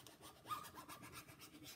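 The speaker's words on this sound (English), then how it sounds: "burnishing so that I know everything is down" A plastic backing sheet rubbed firmly over a furniture transfer laid on a painted board, producing faint, close, rhythmic rasping strokes with no voices.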